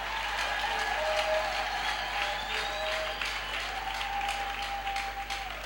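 A church congregation claps during a French-language sermon, the applause steady and moderately loud throughout, with voices and singing tones rising faintly through it.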